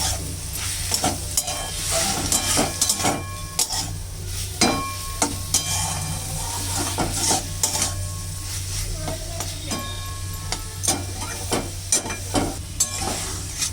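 A spoon stirs a flat bean (shim) dish in a frying pan after sugar goes in, giving repeated scraping strokes and clinks against the pan over a steady close sizzle, with no talking.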